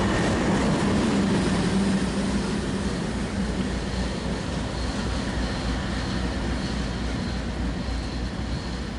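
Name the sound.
freight train passing, railfan recording in Chicago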